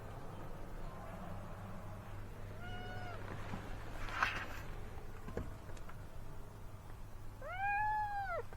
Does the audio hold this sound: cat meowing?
yes